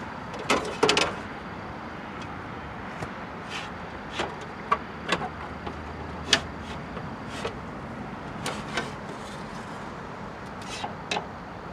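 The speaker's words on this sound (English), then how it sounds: "we have just enough room to pull our glass up and out towards the inside of the door" Jeep door window glass being worked out of the door gives scattered sharp scraping squeaks and clunks against a steady background hum, sounding irregularly at close range with no talking.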